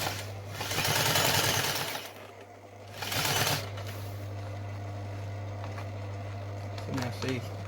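A sewing machine stitching car interior upholstery material runs in two loud bursts, one long and one short, over a constant electrical hum, followed by quieter handling noises.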